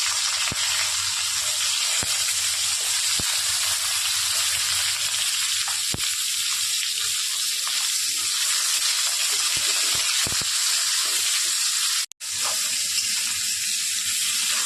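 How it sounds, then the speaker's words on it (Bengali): Pieces of pointed gourd (parwal) fry in hot oil in a home kitchen, giving a steady, loud, close sizzle that runs without a break, with a few faint utensil clicks and a brief dropout near the end. "পটলগুলো ভেজে নেব।"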